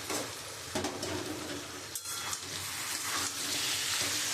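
Minced chicken and fried potato cook in a pan with spices, giving a steady, hissing sizzle that stays even throughout, with occasional soft stirring.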